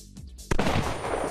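A shotgun blast in the Roblox game Buckshot Roulette, one loud sudden shot that cuts through quieter game sounds and rings out with a broad noisy tail.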